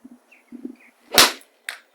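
A Mizuno JPX 900 Hot Metal chromoly iron strikes a golf ball with a single sharp, loud crack, followed moments later by a fainter second impact, against an otherwise quiet outdoor backdrop.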